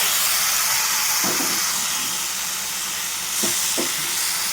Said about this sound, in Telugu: ఇప్పుడు మనము స్మాష్ చేసి పెట్టుకున్న టమాటాలు వేసేసాము